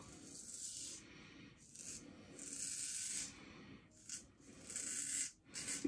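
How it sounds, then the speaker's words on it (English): Faint, close scraping strokes of a hollow-ground Heljestrand straight razor edge being honed, with a thin ringing hiss on each pass and short gaps between strokes. "Hollow grind sings a bit, so you can hear the feedback."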